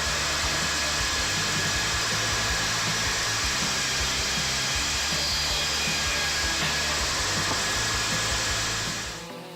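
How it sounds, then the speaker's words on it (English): Husqvarna 592 XP and Stihl MS661 chainsaws cut through big dry wood, a loud, steady high-revving engine whine with a continuous buzzing drone that holds throughout, then fades at the very end. "the formidable Husqvarna 592 XP and the reigning champion Stihl MS661 easily cut through dry wood"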